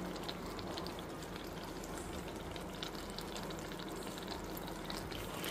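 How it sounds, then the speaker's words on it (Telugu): Herbs and ingredients fry in hot oil for a homemade hair oil, giving a steady, dense crackling sizzle that runs without a break, close and even, with no voices. "మనకు ఆయిల్లో వేగినట్టు వేగిపోతాయి అన్నమాట. చూసారా అన్నీ పట్టినాయి నూనెలో"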